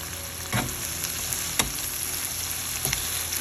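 Onions with salt and turmeric frying over high flame in a pan for stir-fried prawns, a steady loud sizzle with a few stirring scrapes and clanks, no talk.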